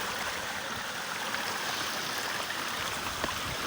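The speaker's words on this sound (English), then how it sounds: "I like the waterfall." A stream and waterfall in Scotland give a continuous, even rush of water, moderately close and unbroken, with no voices over it.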